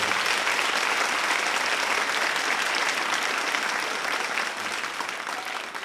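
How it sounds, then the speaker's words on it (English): Convocation audience applause, a dense, loud, continuous wash of many hands clapping in a large hall, sustained throughout and easing slightly toward the end. "So let's give them a round of applause here."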